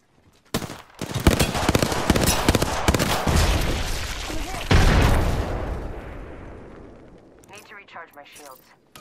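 Gunfire in the video game Apex Legends, a dense burst of loud, rapid shots and blasts that fills the first seconds, then thins into a rumbling decay with scattered later effects.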